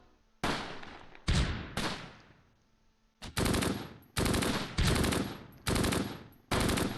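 Rapid bursts of gunfire from the WWII tactical video game Close Combat, set around St Mauvieu in June 1944: about seven loud, sharp volleys in an uneven rhythm, each decaying quickly, with no talking.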